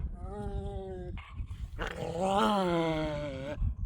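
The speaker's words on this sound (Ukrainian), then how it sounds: "Дивись, які ревниві собаки." Jealous dogs growl and grumble close by in long, rising snarls that swell into a loud, drawn-out growl near the end, indoors, with no speech over it.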